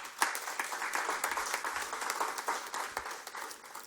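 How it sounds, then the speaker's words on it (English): Applause at a tourism conference for taxi ambassadors, a crowd clapping steadily and moderately loud for a few seconds. "Can they have a round of applause?"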